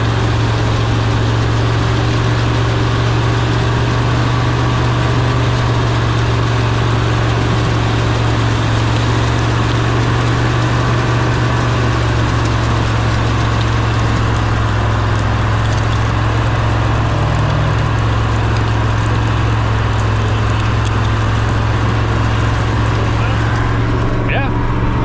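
A Snow Cat drives through mud, its heavy engine keeping up a loud, steady, low drone from start to finish.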